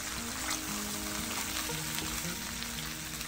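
Rabbit pieces fry in a pan for a squash and potato dish, giving a steady, close sizzle with faint crackles and no talking.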